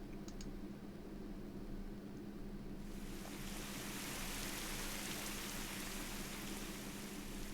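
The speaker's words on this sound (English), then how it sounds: "I can hear the rain." Steady hiss of rain falling, a dense even wash that thickens and brightens partway through, with no voices.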